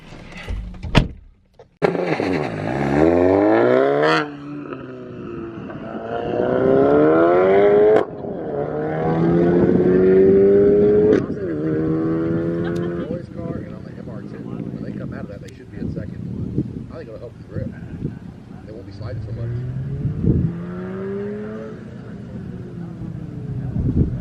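A VW MK7 Golf R engine revs and accelerates hard through an autocross run, rising and falling in pitch through repeated gear changes, heard from inside the car with a voice talking over it at times.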